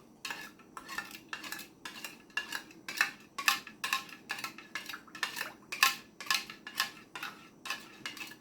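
A spoon stirs homemade oral rehydration solution in a container, making a rapid series of light metallic clinks and taps against the sides, close and evenly rhythmic with no talking.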